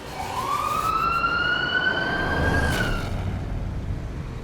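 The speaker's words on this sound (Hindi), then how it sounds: "बस थोड़ी देर में एम्बुलेंस आ रही है।" An ambulance siren wails in a single long rising and falling sweep, fairly loud and close, over a broad road-like rumble, with no speech.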